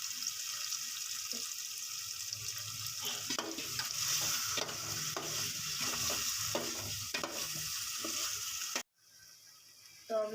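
Potatoes and eggs in a curry masala sizzle steadily while being fried, with a spoon stirring and scraping in irregular strokes. The frying stops abruptly near the end, and no one speaks.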